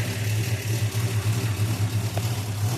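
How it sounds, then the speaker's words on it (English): A carbureted engine idles steadily while not yet fully warmed up, a close, loud low rumble with a slightly uneven pulsing rhythm and no talking. "it'll usually idle at about, it's happiest at about 900 RPM"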